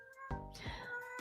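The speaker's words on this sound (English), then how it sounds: "Okay, that's my cat." A cat lets out a single drawn-out meow nearby, fairly quiet, with a short second cry at the end.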